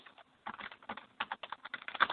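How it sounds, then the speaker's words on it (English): Computer keyboard typing during a podcast, a quick, uneven burst of clacking keystrokes after a brief pause, fairly close and alone. "I'm just typing there. Don't mind my typing."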